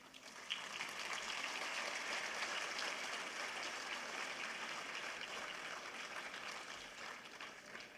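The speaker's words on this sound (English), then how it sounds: "dear audience, you need to applaud our panelists for the day" An audience at an international conference of chief justices applauds the panelists, a steady, full round of clapping from a large crowd sustained for several seconds before easing slightly.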